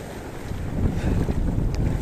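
Strong wind roars across the microphone over the rush of big, rough sea waves during crab fishing, a continuous, loud, blustery wash with no voices.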